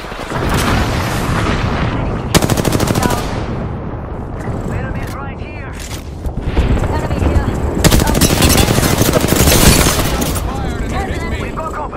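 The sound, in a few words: gunfire in the video game Apex Legends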